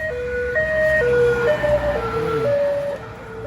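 A wailing ambulance siren alternating between two pitches, loud and steady over traffic rumble.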